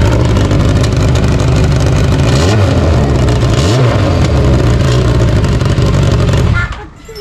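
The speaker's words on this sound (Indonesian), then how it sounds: "langsung aja kita tes sound pakai knalpot internasional." Big motorcycle fitted with a custom can-style exhaust revving loud and close, a dense, throaty engine roar that swells and dips before cutting off abruptly near the end.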